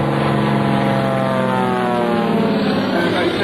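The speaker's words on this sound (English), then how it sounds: "this airplane replicates the looks and the sound of the golden age of air racing" A Cyclone propeller airplane built to look and sound like a golden-age air racer flies aerobatics at the 2005 Rhode Island Air National Guard open house, its loud, steady engine drone holding close with a slowly shifting pitch.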